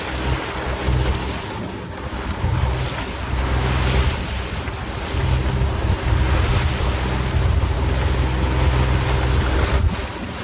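A sailboat under way with wind and tide behind it: a continuous roar of wind buffeting the microphone over rushing water and waves against the hull, loud and close with no talk.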